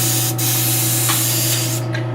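An airbrush sprays paint in a steady, close hiss, continuous throughout with slight fluctuations and no talking.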